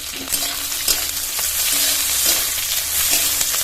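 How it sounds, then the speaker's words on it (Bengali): Capsicum stirred and fried in a pan with onion, garlic and slit green chilli, giving a steady close sizzle with periodic scraping strokes of the spatula. "ক্যাপসিকাম কুচিটা দিয়ে একটু নেড়ে চেড়ে নিয়েছি 1 মিনিট মতো"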